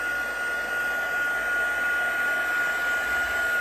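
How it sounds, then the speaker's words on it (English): A heat gun blows hot air for heat embossing over a heat-resistant craft mat, producing a loud, constant whooshing roar with a faint high whine that holds steady throughout. "Heat emboss right on it."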